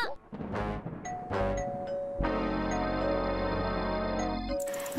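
A doorbell chimes in a cartoon scene, with sustained ringing tones that swell and hold for a couple of seconds before cutting off.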